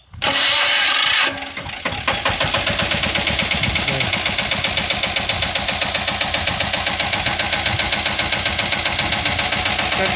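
A Saneda farm vehicle with a 10.5 engine cranks and catches within about two seconds. It then settles into a loud, close, rapid chugging idle that continues steadily.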